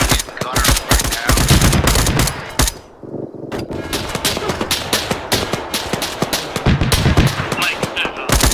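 Gunfire in the military video game Arma: rapid, loud bursts of automatic weapon shots packed closely together, pausing briefly around the middle before resuming as dense crackling volleys.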